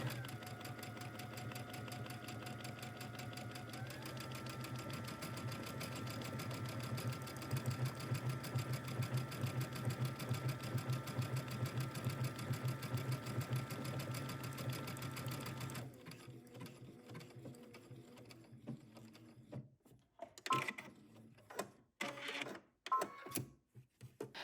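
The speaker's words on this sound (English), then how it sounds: "I'll do one buttonhole, and then you will just go ahead and sew in all of your buttonholes." A sewing machine stitches a buttonhole on a shirt dress collar with a fast, even, steady whir-thump that stays close and continuous, then stops and gives way to handling noises and clicks.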